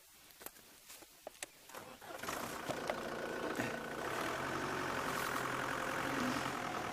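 A Mahindra safari vehicle engine idles with a steady low rumble that grows louder after a few clicks and knocks, then holds constant.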